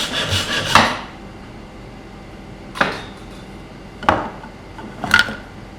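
Bamboo being sawn or cut by hand, a few sharp scraping rasps of blade on wood: one longer burst at the start, then three short separated strokes, close and moderately loud with quiet gaps between.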